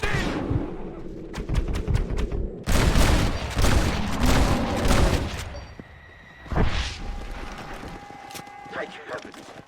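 Loud bursts of gunfire fired at a bear in the western game Red Dead Redemption, with repeated rapid shots and booming blasts across most of the stretch, fading to quieter shots near the end amid game noise.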